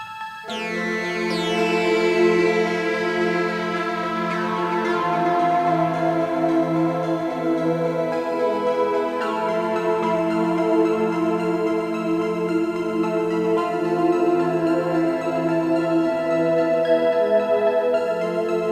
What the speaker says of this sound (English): I added an arpeggiator as well as a pad that sound like this,